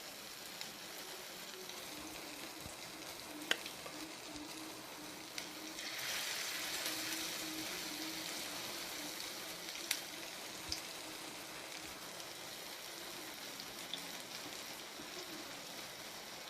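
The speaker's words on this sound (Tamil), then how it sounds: "பேனில் எண்ணெய் சூடாக இருக்குது. இப்போ நம்ம மிக்ஸ் பண்ணதை கொஞ்சம் கொஞ்சமாக போட்டு இப்படி லைட்டாக ஸ்ப்ரெட் பண்ணி விட்டுருங்க" Prawn cutlet mixture sizzles in hot oil in a pan as a soft, steady hiss. Occasional small pops and crackles stand out, with a brief louder surge partway through.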